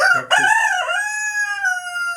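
A rooster crows once, loud and close, a full drawn-out cock-a-doodle-doo with no other sounds around it.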